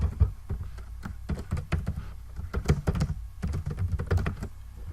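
Quick typing on a computer keyboard, close and fairly loud, with irregular bursts of key clacks and short pauses, no voices.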